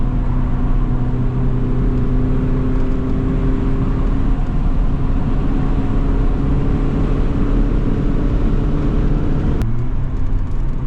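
A BMW E30 M3's engine howls at sustained high revs on the İstanbul Park race circuit, a loud, close, continuous drone with a slight pitch dip near the end.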